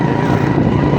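A motorcycle rides along a road past a civil teaching hospital in Sahiwal, Punjab, its steady engine drone and wind rush filling the short stretch at close range, loud and continuous with no talk.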